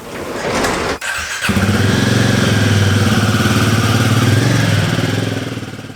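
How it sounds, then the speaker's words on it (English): A Royal Enfield Guerrilla 450's liquid-cooled 450 single-cylinder motorcycle engine cranks with a brief squeal, catches, and settles into a loud, steady throbbing idle close by. "liquid cooled, 450 single cylinder engine"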